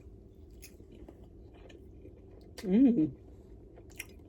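A mouthful of strawberry cheesecake French toast chewed close up, a short soft squishy burst in a quiet kitchen, followed by a brief murmur of approval.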